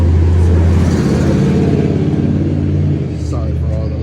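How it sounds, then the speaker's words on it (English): Steady loud street traffic with a low rumbling vehicle drone filling the scene throughout, easing slightly near the end, with no clear single pass-by standing out. "Sorry for all the loud vehicle noises in the background, but I am on the street, so you're gonna hear it"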